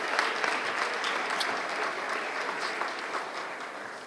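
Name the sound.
round of applause for coaches at signing day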